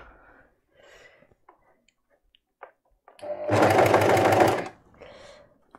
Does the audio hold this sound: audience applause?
no